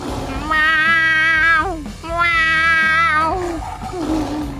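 A cartoon character's voice imitates a cat, though it was meant to bleat like a goat, in a Motu Patlu tiger-trap scene: two long, loud, drawn-out meows close up, then a shorter wavering cry.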